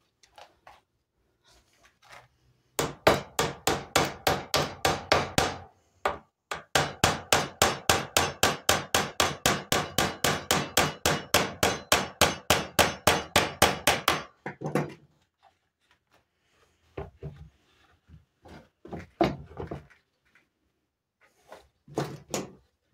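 Someone hammers on a wooden toy camper, delivering long runs of rapid, evenly spaced, sharp blows up close, then a few scattered, slower taps.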